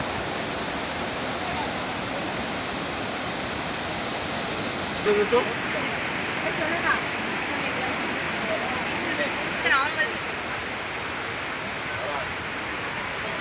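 The Neora river flowing with clear water in the hills near Samsing and Sakam forest; a steady, broad rushing roar fills the whole stretch, with brief faint sounds near the middle.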